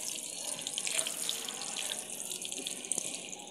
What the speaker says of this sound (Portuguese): Pode molhar à vontade, a água à vontade aqui nesse momento